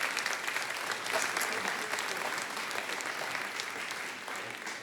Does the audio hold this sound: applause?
yes